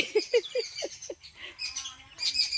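A bird gives a quick series of five sharp chirps, followed by scattered higher twittering from other birds nearby.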